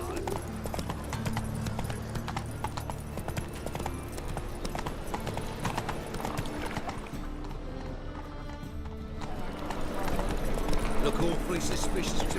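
Horse galloping in The Witcher 3 video game, steady rapid clip-clop of hooves on a dirt road with an occasional whinny, under game music and ambience while a voice speaks over it.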